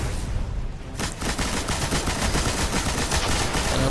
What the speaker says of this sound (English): This is when you want to start using your heavy guns